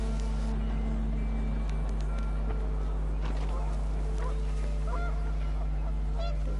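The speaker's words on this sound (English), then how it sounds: "The wind picked up, and panicked geese appeared and quickly went." Panicked geese honk in the video game What Remains of Edith Finch, calls scattered across a few seconds over a steady low drone and wind, with a voice talking throughout.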